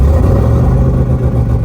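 A burnout car's engine, its carburetor jets opened up, fires up and revs loudly and close, a steady thick low rumble with no voices over it.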